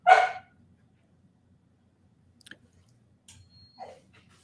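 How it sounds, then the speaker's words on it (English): A dog barks at a cat: one sharp bark at the start, then quiet with a few faint clicks and a small yip later on, close by. "I got a dog barking at a cat."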